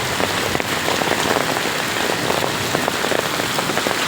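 Heavy rain and hail fall in a hailstorm near Kalghatgi, Hubballi, a dense and steady hiss of patter with frequent sharp impacts on surfaces. No voices.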